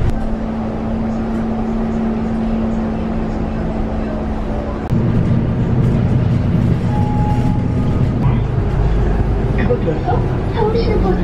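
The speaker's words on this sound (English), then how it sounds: "It's gonna be my first time riding a bus in Seoul." A city bus in Seoul rumbles along with a steady engine drone and road noise, and the pitch shifts partway through as it moves. People talk over the ride.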